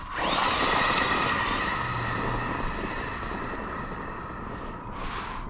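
A LOSI Super Baja Rey 2.0 RC car whines loudly at full throttle, its motor a sustained high buzzing drone with rushing wind noise that trails off, no talk over it.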